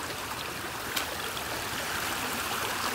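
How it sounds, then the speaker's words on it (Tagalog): Strong water from the mountain rushes along an irrigation canal, a continuous broad hiss and burble at low, even level, with no voices. "Kita mo oh, sobrang lakas ng tubig oh."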